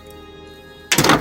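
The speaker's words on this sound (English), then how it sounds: "Although this door works." A low background hum in an abandoned high school football stadium gives way to a single loud, heavy thunk of a door shutting nearby, followed by a brief rattling after-sound.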